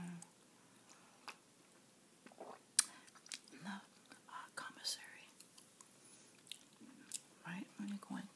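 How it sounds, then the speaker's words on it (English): Sugar-free gourmet chewing gum is chewed close to the mic, soft wet smacks and clicks repeating irregularly between quiet whispered talk. "here's the gum I'm chewing today, by the way."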